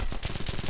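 A short, rapid burst of gunfire from a gun in The Punisher video game, several quick shots in a tight rhythm, loud and close.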